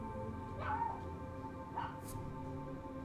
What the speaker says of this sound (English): I don't know why that barking sounds so far away.